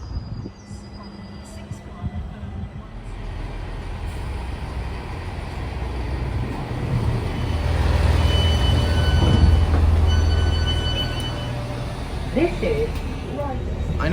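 A GWR Class 165 diesel multiple unit on the North Downs Line, its low engine rumble building and peaking mid-clip with rail noise, then easing, heard from a platform nearby.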